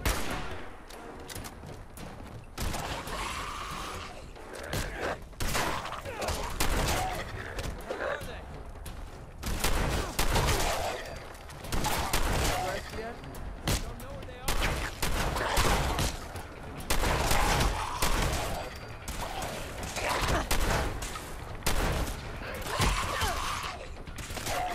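Repeated gunfire and weapon mechanisms sound through a fight against a mob of feral ghouls in Fallout 4, bursts coming in waves over game noise, with a voice talking over the action.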